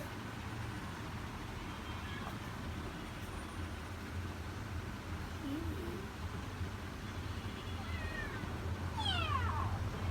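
Several young kittens meow together, with thin rising and falling cries, loudest near the end, over a steady low rumble of road traffic.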